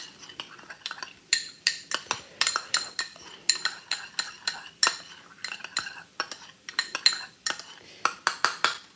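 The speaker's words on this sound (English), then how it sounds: "So now, just mix this. I may not even use all of this, but we'll see. Just mix it together." Metal utensil clinking and scraping against a bowl while BBQ shrimp ingredients are mixed together, a brisk irregular run of close taps and stirring strokes.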